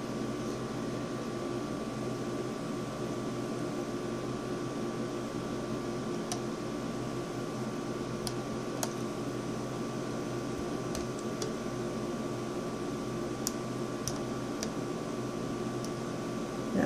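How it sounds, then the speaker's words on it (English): A room air conditioner in a hot Pennsylvania home runs as a steady, even hum and whoosh, constant in level throughout with a few faint ticks. "I also get asked about the noise in my room. That's my air conditioner."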